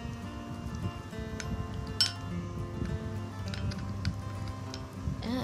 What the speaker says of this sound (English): Mix this well again.